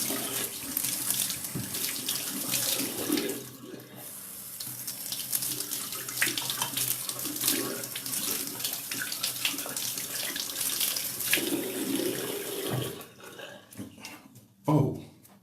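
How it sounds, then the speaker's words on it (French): Tap water runs steadily into a sink while a face is rinsed by hand, continuous close splashing and gurgling with small irregular splatters, easing off toward the end with a brief louder splash. "je vais rincer de nouveau mon visage pour le nettoyer intégralement"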